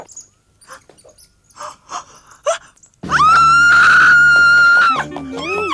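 A girl in the animated series Heidi lets out one long, loud, shrill scream lasting about two seconds, after some quieter rustling and breaths.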